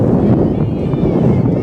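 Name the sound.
gusting wind noise on microphone at softball game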